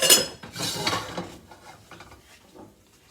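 Egg roll filling vegetables stir-fried in a pan for baked egg rolls, with a loud opening clatter of utensil against pan followed by softer, irregular scraping and stirring that fades toward the end.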